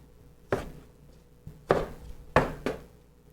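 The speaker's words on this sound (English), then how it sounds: "We're just going to cut wedges of these." Four crisp knife chops through a lime on a cutting board, cutting it into wedges, each a sharp close thud with a short decay, spaced irregularly with quiet gaps between.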